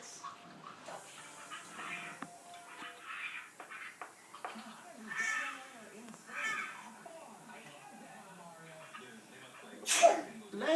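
A single sharp sneeze bursts out near the end, close and loud, while a person talks quietly and with pauses before it.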